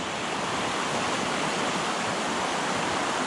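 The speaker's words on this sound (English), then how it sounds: "The water's so fast everywhere." Fast-flowing river water rushes loudly and steadily at Mt Field National Park, a dense, unbroken roar close by with no voices.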